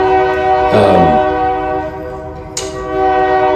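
A train passes close by with its horn blowing a loud, sustained chord, rolling rumble and clatter underneath, and a short burst of hiss near the end.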